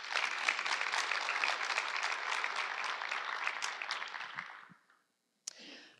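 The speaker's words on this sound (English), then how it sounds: "Let's give them a round of applause." Audience applause at a produce-industry educational session, a dense sustained clapping that stays loud for several seconds, then tapers off and stops, followed by a brief clatter and low room noise.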